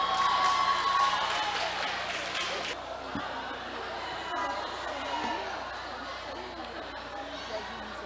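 An audience at a beauty pageant finale claps and murmurs. Dense applause fills the first few seconds, then breaks off, leaving crowd chatter and a voice over the hall.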